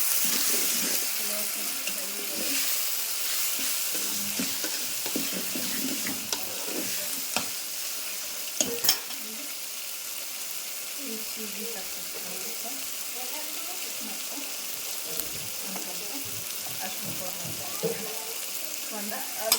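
Tomatoes frying in a pan with a quiet ongoing sizzle and occasional spoon clicks, fairly faint and steady, with some soft background sounds.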